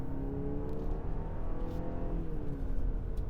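A 2022 BMW X4 xDrive on the move, giving a steady, close engine and road hum with a faint pitch rise partway through, no voices.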